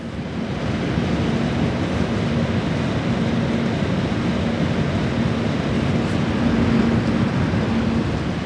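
Three 120mm fans on a Zalman Alpha2 A36 360mm AIO cooler spin at 100% speed, giving a steady broadband airy whoosh with a faint low hum, constant and close with no voices.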